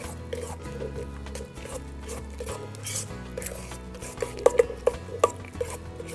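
Diced ham being stirred into tart ingredients in a bowl gives soft scraping and squishing strokes, with a few sharper clicks of utensil against the dish near the end. A low hum runs underneath.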